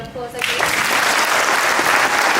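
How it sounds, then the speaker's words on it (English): An audience claps loudly and steadily at a school assembly, a dense wash of applause that swells in after a brief quieter start and carries on to the end. "give them a big round of applause"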